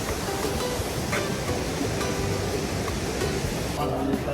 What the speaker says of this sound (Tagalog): So, ito yung waterfalls. Golden waterfalls.